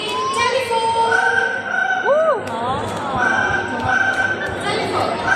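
Quincy the parrot at a bird show imitates a ringing telephone with a few bright, warbling tones, heard over a noisy outdoor audience with children's voices and chatter.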